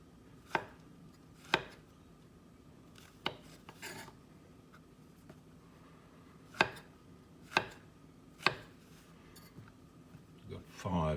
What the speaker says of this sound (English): I'm just going to slice them in probably about 1/4 inch